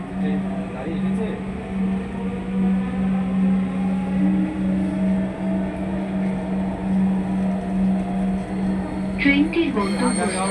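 A Dhaka metro train pulls into a station with a steady loud hum and rising whine, squealing wheels and clatter toward the end, continuous and close.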